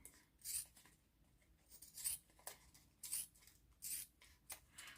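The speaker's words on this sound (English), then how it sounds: "Apparently my scissors need sharpening." Quiet, repeated snipping of dull scissors cutting through fabric, several crisp cuts in an uneven rhythm, close by with no talking.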